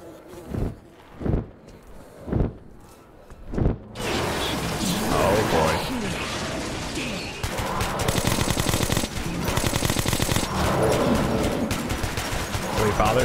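Sustained gunfire in the video game Metro 2033 follows a few heavy thumps, with a dense, continuous rattle of shots that stays loud and close for several seconds.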